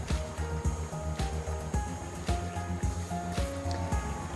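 Water rushes and flows steadily nearby, a continuous watery wash with faint irregular knocks and splashes, no voices over it.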